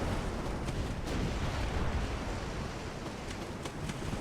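A torpedo strikes a warship in the naval strategy game Ultimate Admiral: Dreadnoughts, set in the 1900 Russo-Japanese war, giving a dense, sustained explosive rumble with surging water noise and a few sharper cracks throughout.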